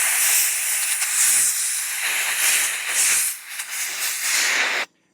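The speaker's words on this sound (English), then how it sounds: "I'm going to actually put the nozzle of the air hose inside the filter." A compressed air hose nozzle blows out a garden tractor's air filter from the inside, making a loud, close hissing blast with fluttering surges before it cuts off abruptly at the end.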